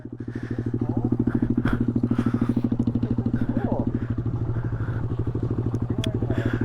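A 2018 Honda Grom small motorcycle ridden on dirt putters with a steady, rapid single-cylinder thrum, close and constant throughout, with occasional clatter.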